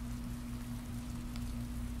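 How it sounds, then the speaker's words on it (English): Steady rain falls in the PS3 game Heavy Rain, a continuous soft hiss of drops on surfaces over a low, constant hum, with no voices. "He just, like, stares at the rain"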